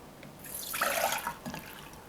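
Water running and dripping as soaked red lentils, green lentils and chickpeas are rinsed and drained for sprouting; a short, soft splashing burst rises and fades within about two seconds, with no talking.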